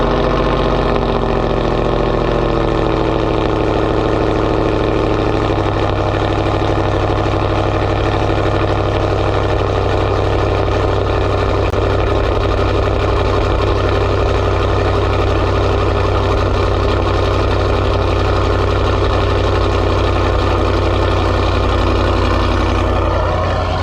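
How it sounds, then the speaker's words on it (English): Dodge Challenger 5.7 R/T V8 engine idling after a cold start, a loud, steady, deep rumble that stays close and continuous throughout, with no talking. "We're gonna start off with a cold start."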